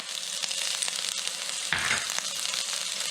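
Red pepper and garlic frying in a pan for an arrabbiata sauce, giving a steady close hiss of sizzling oil with a brief stir midway and no talk.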